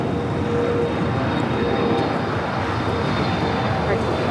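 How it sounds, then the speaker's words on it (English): A FedEx cargo plane arriving from Memphis lands at Los Angeles International Airport: a steady, loud broadband engine roar that holds evenly throughout, with air-traffic radio talk running over it. "This is FedEx 944 coming in from Memphis."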